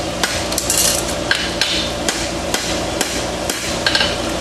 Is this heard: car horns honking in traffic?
no